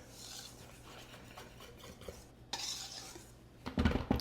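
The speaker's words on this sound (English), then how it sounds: "I'm going to whisk these dry ingredients together." A whisk stirs dry scone ingredients with baking powder in a bowl, making a soft, continuous scraping and rasping that grows into brief louder clinks of metal against the bowl near the end.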